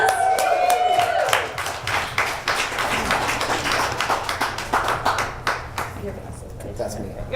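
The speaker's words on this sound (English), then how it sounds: "Can we get a round of applause?" An audience at a founders' event claps and applauds after the host asks for it, a dense patter of hands that thins out toward the end.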